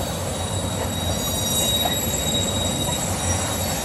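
Loaded bulk freight train cars roll past a rail yard in a steady, continuous rumble, with metallic wheel squeal and a high ringing tone over the noise.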